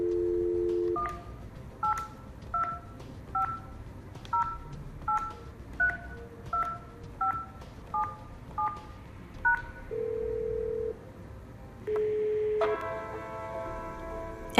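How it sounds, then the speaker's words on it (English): Telephone dialing tones from a Yeastar S-series PBX extension: about a dozen short DTMF beeps in a steady rhythm, then a longer tone and a ringback-like chord near the end, clean and close with no talking. "use extension 8002 to dial a mobile number"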